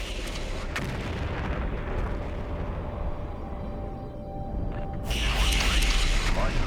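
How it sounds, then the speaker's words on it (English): Fuel tanks exploding in the PC strategy game MechCommander 2: a sustained roar of booming blasts and rumbling fire, loud and steady, swelling brighter toward the end. "I head east and destroy the fuel tanks, fulfilling the objective."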